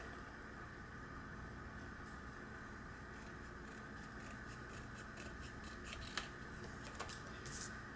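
Scissors trim the corner of a paper layer for a Valentine's craft, faint quiet snips and rubbing near the mic, with a couple of sharper cuts toward the end, no talk.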